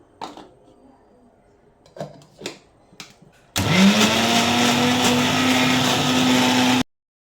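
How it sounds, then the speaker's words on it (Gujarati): A mixer grinder whirs loudly and steadily as it blends guava chutney with ginger, starting after a few clinks and handling sounds and running for about three seconds before stopping abruptly. "હવે આપણે એને ગ્રાઇન્ડ કરશું"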